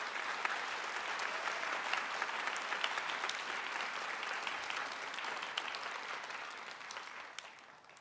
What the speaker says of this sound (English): give him and his leadership team, Brian and Michael, a big round of applause